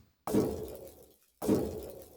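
Two separate synthesized fireball whooshing bursts with a chorus effect, each exploding suddenly and then fading, with a wavering, swirling texture.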